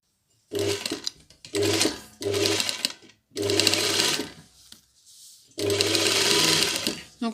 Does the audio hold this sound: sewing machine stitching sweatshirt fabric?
yes